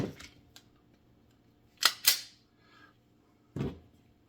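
Five bullets pressed one by one into a pistol magazine, giving sharp metallic clicks in a quiet room, with a couple of louder snaps close together and a final clack.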